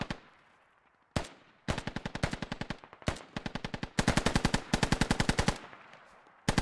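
A British machine gun fires from far off in the Squad video game, in repeated rapid bursts of crisp, evenly spaced shots separated by short pauses.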